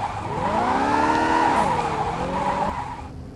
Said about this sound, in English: Once the car goes in a slide, then you'll be able to control it.